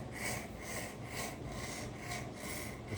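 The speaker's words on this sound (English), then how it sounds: "Got your sharpening rod." Karambit knife blade drawn along a sharpening rod in slow, even strokes, a rhythmic rasping scrape repeating about twice a second, close and steady with no talk.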